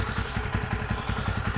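A motorcycle engine idling after a ride in the rain, a close, steady low rumbling putter with a regular mechanical clatter.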